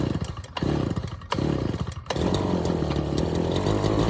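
A small engine running lean with the choke on, its rough, buzzy idle stuttering and surging in uneven pulses at close range before settling into a steadier drone.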